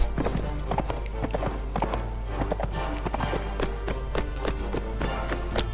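Hooves pound in a steady, rapid gallop from a horse in the video game Mount & Blade Warband, the close, rhythmic clip-clop running continuously over a faint game backdrop.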